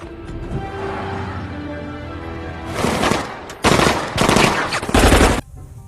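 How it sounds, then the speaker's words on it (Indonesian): Film-scene gunfire as police shoot at bank robbers: rapid automatic bursts crackle loudly in several dense volleys over a tense musical background, with no talking. "Namun naasnya semua para polisi masih menembaki mereka semua"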